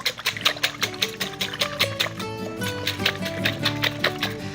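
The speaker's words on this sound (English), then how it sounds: "let's whisk the eggs a little bit" Eggs with a pinch of salt whisked briskly in a bowl, a fast, steady run of close clinking strokes against the bowl with no talk.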